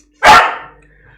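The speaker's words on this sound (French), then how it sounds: "Ce chien là, oh ce chien." A single sharp, loud bark from a dog indoors, sounding close and sudden before it trails off into quiet.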